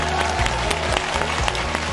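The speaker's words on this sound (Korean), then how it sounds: "또 알려주신 이민지 배려걸스님께 감사하다는 박수" A studio audience claps in steady applause that holds at moderate loudness for the whole stretch, with a low background hum underneath and no speech.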